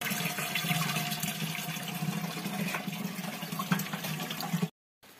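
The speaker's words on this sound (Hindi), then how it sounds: "पानी भर रहा है यहाँ पे" Water runs steadily into a pot at a village water source in the mountains, a continuous splashing gurgle that stops abruptly near the end.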